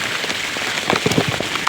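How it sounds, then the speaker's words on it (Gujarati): Heavy rain pours steadily at a village shop during the monsoon, a dense continuous hiss with louder drop spatters building toward the end, and no voices. "વરસાદ હતો ધબધબાટી"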